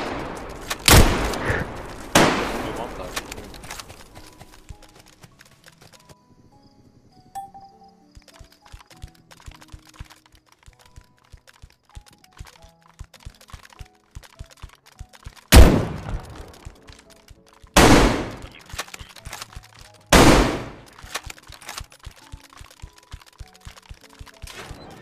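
AK rifle gunfire in a shooter game: a few sharp loud shots early, a stretch of quiet ticking mechanical sounds, then several more loud cracking bursts spaced apart near the end.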